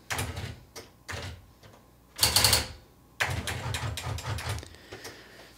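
An electronic typewriter types in quick bursts of sharp mechanical strikes, with a longer clattering run and carriage-like whirs between pauses, close and clear with no talk.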